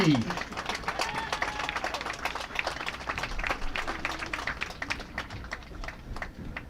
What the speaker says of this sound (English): a nice round of applause for the first team all NAC